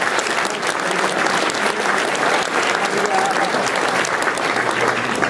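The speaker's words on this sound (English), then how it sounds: "Round of applause." An audience applauds at the Headway Awards 2013 ceremony, a steady, sustained round of clapping that fills the hall at even loudness from start to finish.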